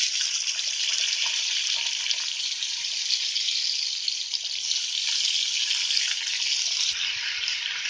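Potatoes, onion stalks and green chillies hit hot oil with black cumin, and a loud, steady hiss of frying carries on throughout, alone and close.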